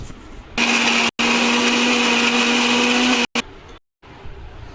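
A mixer grinder whirs loudly, grinding roasted masala with water in a sustained high-pitched buzzing burst, briefly cut off twice and restarted, then stopping, up close.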